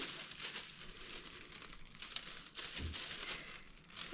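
Very thin plastic sheet crinkles and rustles as it is handled close by, giving a soft, continuous crackling with a few slightly sharper crunches and no talking.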